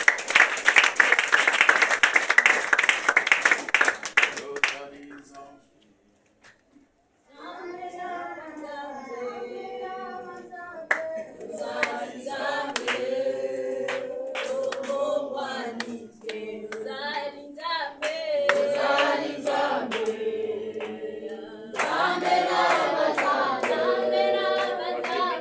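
Church congregation clapping for the king: a burst of loud rhythmic applause opens, then after a brief lull voices sing with scattered claps, and a stronger clapping burst returns near the end.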